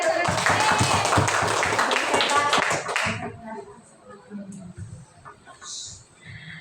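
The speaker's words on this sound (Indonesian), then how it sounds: "Tepuk tangan." An audience of teachers claps together during a school staff training session, a brief burst of dense, loud clapping that stops abruptly, followed by quieter room sounds and faint talk.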